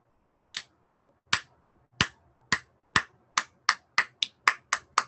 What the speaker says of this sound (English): let's clap out if everyone's ready